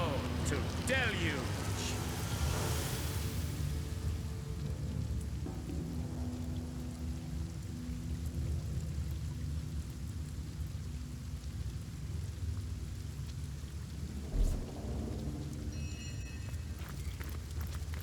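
A rain spell in Divinity: Original Sin brings a steady wash of heavy rain with low rumbling thunder that lasts throughout, while someone talks over parts of it.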